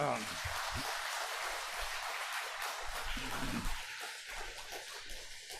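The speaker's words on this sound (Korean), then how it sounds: "여러분의 박수가 좀 필요합니다" A church congregation at a weekend revival service applauds, a faint, steady wash of clapping heard from a distance that sounds almost like rain, with a voice briefly audible.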